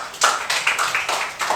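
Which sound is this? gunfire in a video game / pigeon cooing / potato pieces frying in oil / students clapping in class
students clapping in class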